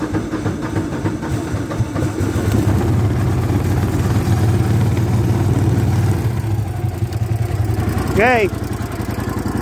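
Landmaster LM650 engine idling steadily after a cold start at -7°, a low continuous rumble running throughout with a brief voice near the end.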